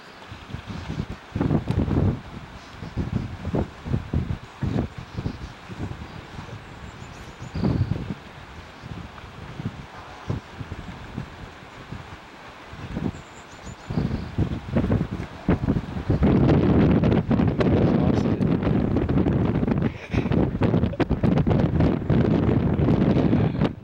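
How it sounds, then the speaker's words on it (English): Strong wind buffets the microphone about 100 feet up on a rooftop beside a hand-cut fishscale copper dome, gusting unevenly and roaring loudest in a sustained blast near the end, with no talk. "It's windy out here."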